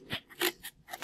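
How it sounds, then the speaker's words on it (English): Scissors slice through a piece of cardboard in a few short, crisp snips separated by brief pauses, heard close and alone. "use a scissor to cut a piece of cardboard"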